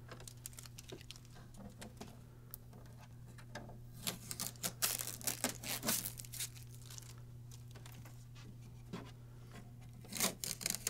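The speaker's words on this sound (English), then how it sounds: "we will remove all the visible blue tape from around the printer" Blue tape is peeled away from an HP OfficeJet Pro 8710 printer in a series of crackly tearing and rubbing bursts, close up and fairly quiet.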